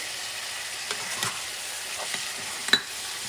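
Ground meat mixed with homemade sazon in a frying pan, a steady low sizzle under scattered scraping strokes of a utensil and one sharper clink near the end, close by and with no talking.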